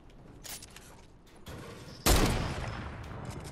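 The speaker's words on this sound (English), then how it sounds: "Oh my goodness, who's shooting?" Gunfire in a video game: a few scattered distant shots, then a loud close burst of rapid fire that rings out and fades, with no talking.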